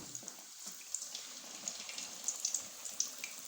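Samosas frying in hot cooking oil, a quiet bubbling crackle with small pops growing slightly busier toward the end, close and alone without talk.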